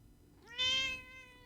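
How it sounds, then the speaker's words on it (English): A pet cat gives a single drawn-out meow, rising and then trailing off, fairly close but quiet against a calm room. "Hold on, one meow for the audience."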